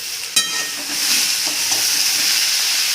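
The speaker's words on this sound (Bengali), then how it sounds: "এবার একসঙ্গে সেগুলো নাড়াচাড়া করে নিয়ে এগুলো আবার কিন্তু প্রেশারে যাবে একসঙ্গে" Vegetable stalks stirred in a hot pan, a loud close sizzle and hiss that rises and holds steady after a single sharp knock of the utensil, with no talk.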